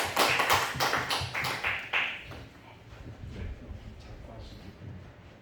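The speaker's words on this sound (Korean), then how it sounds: "박수로 우리 환영하겠습니다" A church audience claps to welcome a missionary speaker to the front, starting loud and close, then thinning into softer scattered claps.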